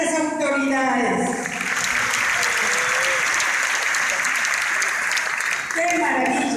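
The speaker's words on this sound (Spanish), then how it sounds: "vamos a dar un fuerte aplauso para nuestras autoridades." A church congregation at an anniversary service applauds its church authorities, loud and sustained clapping from a large crowd that rises over a speaking voice at the start and carries on with talk faintly underneath.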